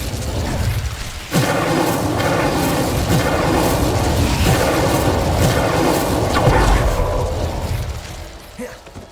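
Incendio fire spell cast in Hogwarts Legacy, a loud sudden whooshing burst of flame that roars on for several seconds with crackling, booming layers, then fades out near the end.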